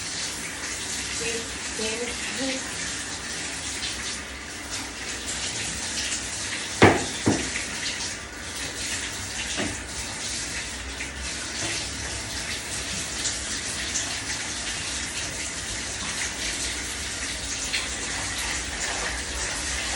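Shower water runs hard into a bathroom tub, a loud steady gushing spray throughout, with a short knock or clatter near the middle and a brief spoken word.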